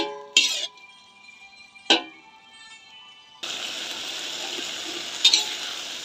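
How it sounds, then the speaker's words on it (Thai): Spatula stirring pad thai rice noodles in a wok, with a couple of sharp scraping clatters early on, then a steady loud sizzle of frying that carries on to the end with another brief scrape. "ตะหลิวช้อนเส้นนะคะ เป็นวนๆนะคะวนข้างใดข้างหนึ่งนะคะ"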